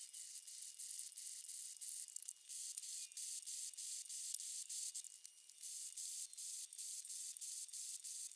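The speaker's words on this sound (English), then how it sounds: "Here, I'm sharing the last bottle being polished with a 3000 grit pad." A glass bottle being polished with a fine 3000 grit pad gives a steady, quiet high-pitched sanding hiss with brief rhythmic breaks as the pad is worked over the glass.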